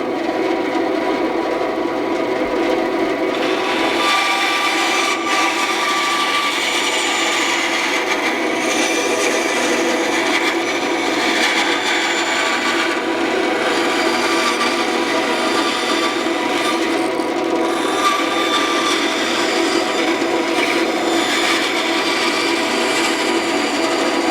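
A band saw cuts slowly through wood, its steady whine and rasping blade running continuously and loud for the whole stretch, close up with no talking.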